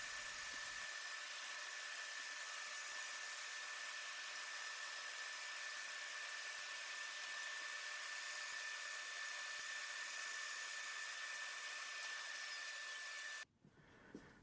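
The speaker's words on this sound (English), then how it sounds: "it's easier and smoother to use the bandsaw" A bandsaw cutting scrap wood discs gives a continuous, steady machine whir with a thin constant whine. The noise holds level throughout, then cuts off abruptly at the end.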